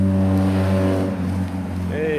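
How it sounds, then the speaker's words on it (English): A bus passes close by on a street, a loud steady engine drone that dips and then rises again as a higher whine enters. "There's a bus."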